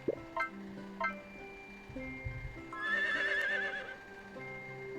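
Horse neighing in the Harvest Moon: The Winds of Anthos farming game, with a clear, rising whinny in the second half after a few soft clinks and thuds, no talking.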